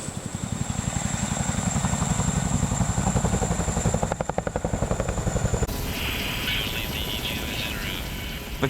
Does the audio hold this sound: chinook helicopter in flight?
yes